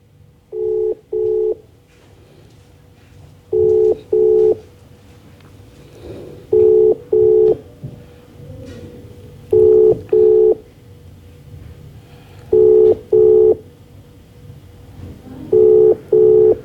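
Telephone keypad dialing tones sound in short paired beeps, repeating in regular groups about every three seconds over a faint steady background hum, loud and close with no voices.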